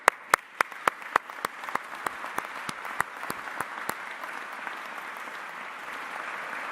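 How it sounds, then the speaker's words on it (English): Applause at a press conference held by Ontario Premier Ford, with a few loud, close claps up front and a denser spread of clapping from the room, swelling and holding steady, no talking. "I want to give you a big round of applause"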